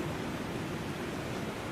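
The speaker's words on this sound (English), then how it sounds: "let's get you in the shower" Shower water running in a bathroom, a steady even hiss of spray that fills the short stretch alone with no voices.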